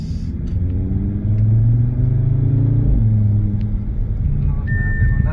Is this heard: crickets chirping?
no